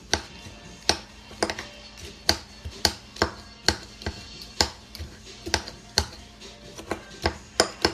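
Crisp bacon snapped and crumbled into small bits for whipped potatoes, giving a string of sharp, dry cracks at an uneven, quick rhythm, close and clear over a quiet background.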